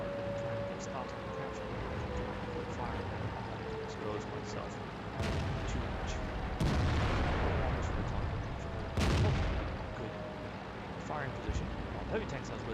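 In a StuG IV tank battle video game, heavy cannon shots boom several times over a steady engine rumble, with a person talking throughout.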